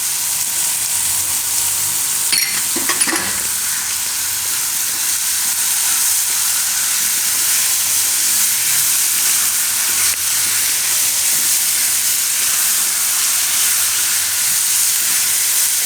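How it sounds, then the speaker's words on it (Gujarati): Green chilies hit hot oil with a brief crackle, then settle into a loud, steady sizzling hiss that continues close by for the whole stretch, with no voices. "આમાં લીલા મરચાં નાખી દઉં હવે."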